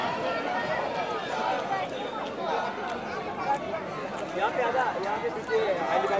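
A dense crowd of pilgrims at the Bhairav Baba temple in Kashmir, a continuous babble of many voices and shuffling footsteps close around, steady throughout.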